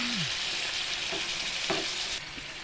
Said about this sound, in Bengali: আমি কিন্তু হালকাভাবে গ্যাসটা সিমে করে আস্তে আস্তে ক্রমশই নাড়তে থাকবো